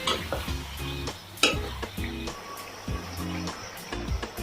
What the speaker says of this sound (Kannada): ನೋಡಿ, ಈ ರೀತಿ ಚೆನ್ನಾಗಿ ಫ್ರೈ ಮಾಡ್ಕೊಳ್ಳಿ